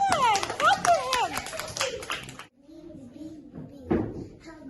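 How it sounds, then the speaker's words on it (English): Children clapping in a second-grade classroom during a science lesson, a burst of scattered hand claps for about two seconds with children's voices mixed in, then quieter room sounds and a single sharp tap. "Excellent. Clap for him."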